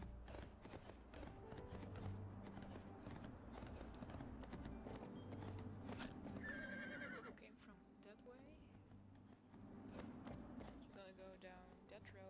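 A horse gallops with steady clip-clop hoofbeats and neighs repeatedly in a Barbie horse adventure video game, the game sounds loud and continuous over background music.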